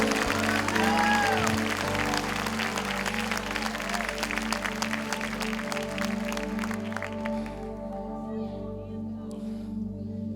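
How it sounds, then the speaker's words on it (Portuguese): A church congregation claps during a morning service, steady crowd applause over a sustained musical backing that continues throughout and fades slightly toward the end. "Dê o melhor aplauso aqui nesta manhã."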